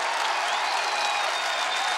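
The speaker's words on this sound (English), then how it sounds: "Nice crowd here giving applause to the Orangemen" Sustained applause from a crowd at a 1991 Syracuse versus Rutgers college lacrosse game, a dense bright wash of clapping heard from a distance with faint tonal whistles above it.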